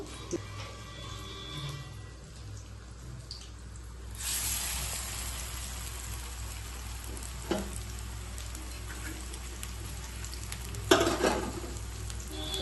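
Pumpkin flower fritters fry in hot oil with a steady, close, crackling sizzle that thickens midway, with a few brief louder spatters and clinks and no voices.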